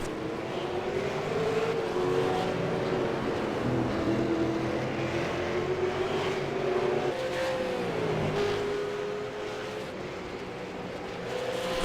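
A V8 Supercar race car lapping Phillip Island circuit, its engine a continuous droning roar with pitch rising and falling through gear changes, steady and moderately loud throughout.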